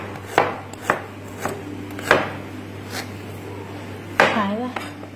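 Knife chopping ginger on a cutting board, several separate sharp chops spaced out with a quiet kitchen hum beneath, close and clear, with no talking.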